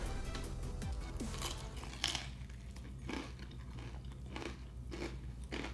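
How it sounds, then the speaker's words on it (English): Crunchy fried restaurant food is bitten and chewed close to the mouth, giving a series of sharp, brittle crunches spaced a second or so apart over a low background hum. "Oh my goodness, a crunch on that."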